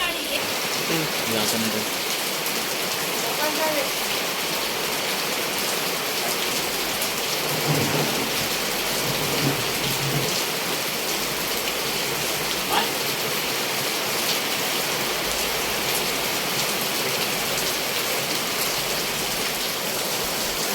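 Heavy monsoon rain pours down in the Konkan region onto a metal sheet roof, a dense, unbroken roar with thunder rumbling beneath and a voice speaking briefly over it.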